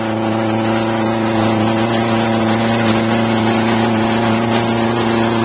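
ToteTank agitator running wide open at about 50 RPM, a steady droning motor hum with layered tonal harmonics, constant and fairly close with no break.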